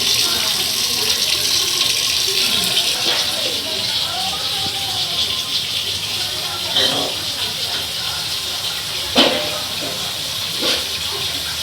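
Tap water pours continuously into a newly fitted steel kitchen sink, a steady hissing splash held at close range, while someone talks over it.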